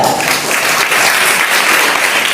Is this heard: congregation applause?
yes